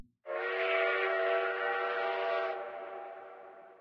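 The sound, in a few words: train whistle of approaching train, from video game Zelle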